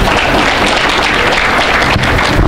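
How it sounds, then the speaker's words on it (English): Steady, dense applause from a crowd at a Somali American awards event in Columbus, Ohio fills the whole stretch, even and sustained without pauses. "So let's give them a round of applause,"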